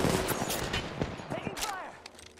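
Gunfire from the video game Apex Legends, scattered shots and bursts over a few seconds at moderate loudness with some game voice sounds mixed in.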